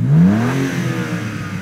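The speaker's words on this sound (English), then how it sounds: "Go and rev it up again." BMW M3 Touring engine revving once, the pitch sweeping up sharply then settling back into a steady mid-range drone, loud and close with no talk.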